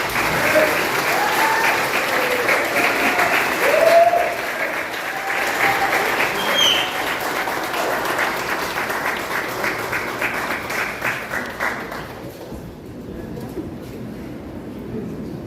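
Audience applause at a First People heritage week opening in Santa Rosa, a dense steady clapping from a crowd that holds strong for about twelve seconds before dropping away, with a few faint voices underneath.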